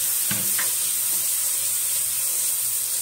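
Chopped tomatoes drop into a hot dal tadka, setting off a steady, close hiss of sizzling oil with a brief burst of louder spattering at the start, no voices present.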